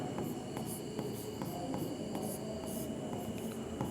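Chalk or marker scratches across a board during a Class 10 trigonometry lesson, making faint, regular strokes over a steady low room hum.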